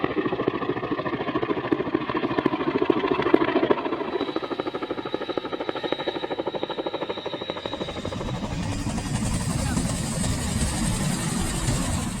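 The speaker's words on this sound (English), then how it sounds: "the helicopter heads into the air" Dutch CH-47 Chinook helicopter carrying a sling load during training, a loud, steady rotor throb and turbine roar with fast rhythmic beating, shifting to a broader wash of engine noise as it lifts away.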